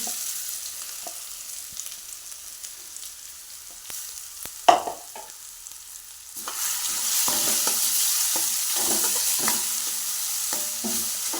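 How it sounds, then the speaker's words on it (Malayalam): Crushed coconut pieces hit hot coconut oil in a pan and begin a steady, loud sizzle that swells after a brief stir clatter, the frying hiss continuing strongly to the end with no talking. "നമ്മുടെ ചതച്ച് വെച്ച തേങ്ങാക്കൊത്തി തേങ്ങ ചതച്ചിടുവാണേ"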